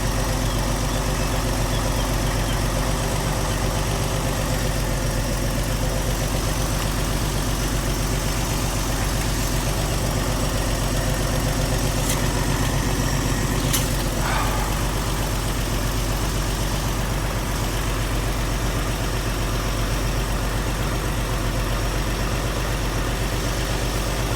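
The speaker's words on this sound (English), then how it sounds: "Really is purring now, that engine." A Vauxhall Royale car engine idles smoothly and steadily with a low, even rumble throughout, close and constant, with no voices.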